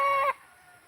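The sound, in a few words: chicken clucking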